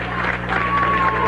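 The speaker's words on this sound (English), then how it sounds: "The crowd is cheering." A crowd cheers as President Carter arrives on 1980 election night, a steady broad roar of many voices with no distinct claps, a thin whistle-like tone sliding through the middle of the noise.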